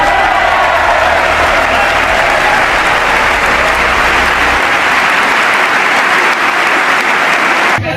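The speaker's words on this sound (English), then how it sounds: "Barack Obama just got the biggest standing ovation" A standing ovation for Barack Obama: dense, loud applause from a large crowd, steady and sustained for the full stretch, with faint cheering mixed in.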